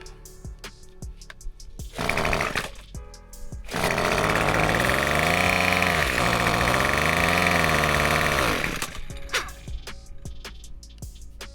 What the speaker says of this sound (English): So I did get this weed eater to crank.